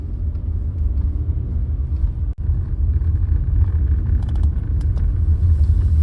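A car drives toward the Rann Utsav tent city on the white desert of the Rann of Kutch, Gujarat. A steady, loud low rumble of road and engine noise holds throughout, broken once by a brief click.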